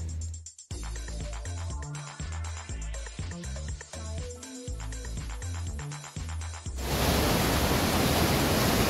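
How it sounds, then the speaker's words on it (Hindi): Rushing water of Huka Falls on the Waikato River, a loud broad roar that takes over abruptly after several seconds of music and continues steadily to the end. "यहाँ पे पानी का आवाज बहुत ज्यादा है"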